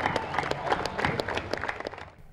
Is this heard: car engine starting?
no